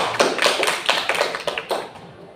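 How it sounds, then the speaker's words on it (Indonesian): Classroom pupils clap together in a short burst of uneven, bright claps that thin out and fade toward the end. "Beri tepuk tangan buat kalian"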